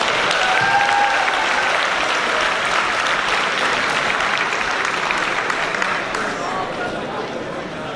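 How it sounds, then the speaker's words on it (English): Sustained applause from a community meeting audience, steady and dense for the full stretch, tapering slightly near the end with some crowd murmur mixed in. "Let's get one more round of applause for both groups."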